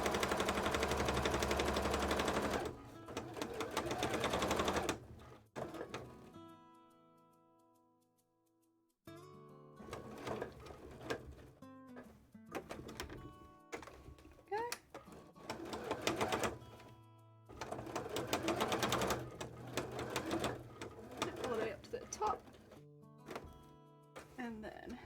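A sewing machine stitching fabric runs in rapid, rattling bursts: a loud run, a pause of a few seconds, then several shorter stop-start runs, with a voice likely in the background.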